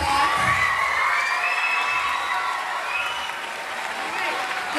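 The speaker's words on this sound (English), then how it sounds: "All right, give them a round of applause." At a 5th grade promotion ceremony, an audience applauds while children cheer and shout, a bright crowd burst that eases off slightly toward the end.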